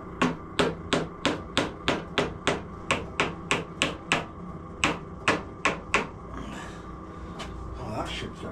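A nylon hammer taps repeatedly on a Harley Davidson motorcycle part, about fifteen sharp, evenly spaced knocks over six seconds, then stops and leaves quiet workshop background.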